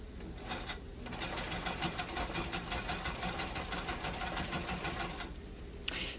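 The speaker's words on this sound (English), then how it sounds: "we'll give it a double stitch so at least have a chance" A home sewing machine double-stitching a pair of mechanic's coveralls, a close, steady rapid rattle that runs for several seconds between brief pauses at the start and end.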